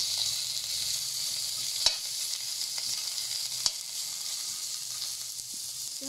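Ginger sizzling steadily in olive oil in a pan for a Bisaya-style pork stew, with a constant close frying hiss broken by two brief utensil clicks; no voices.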